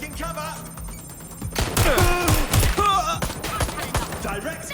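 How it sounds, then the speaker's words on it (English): Watch Dogs: Legion gunfire breaks out midway as a cluster of loud, sharp shots and thuds after a quieter stretch, with game dialogue and effects mixed in around them. "I've been shot. Suspect shooting."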